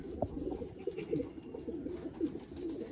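Flying pigeons bred for high-performing young birds coo in low rolling bursts that come again and again over a muffled background, close by, with no talk.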